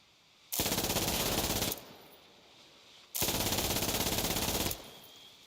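Two long bursts of rapid automatic gunfire from the online multiplayer shooter Insurgency: Sandstorm rattle out loudly, each lasting over a second, separated by a short quiet gap.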